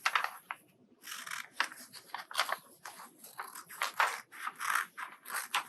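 Scissors cut out paper in steady bursts of crisp snipping and slicing, close and fairly loud, with short pauses between strokes.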